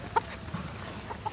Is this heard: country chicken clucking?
yes